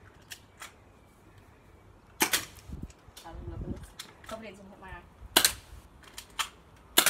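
A 1911-style BB pistol is cocked and fired: a few sharp, snappy pops and metallic clicks spaced irregularly, close to the microphone, with a person talking briefly between shots.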